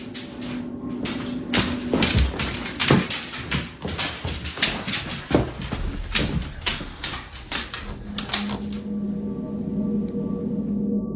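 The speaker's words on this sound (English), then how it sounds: "the source of these knocks is nowhere to be found" Sharp knocks sound in a loose, irregular series, fairly close, over a low background hum, then stop and leave the steady hum alone.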